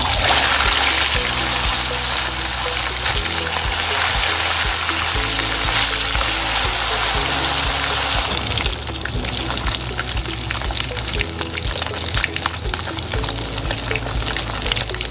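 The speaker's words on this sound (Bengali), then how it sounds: "তেল গরম হয়ে গেছে, আমি মাছগুলো এখন ছেড়ে দেবো। বেশি ভাজবো না, অল্প একটু এদিক ওদিক করে ভেজে নেব।" Koi fish sizzle and crackle loudly in hot oil, a dense continuous frying hiss that runs steadily throughout with only slight shifts as the pieces settle.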